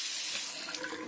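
Hot water gushes steadily from a tap into a sink, a continuous close hiss and splash with no voices, lasting about a second.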